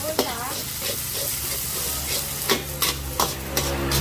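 Pad thai is stir-fried in a wok over a charcoal stove: a continuous loud sizzle with sharp metallic spatula scrapes and clanks at irregular intervals, and a faint voice early on.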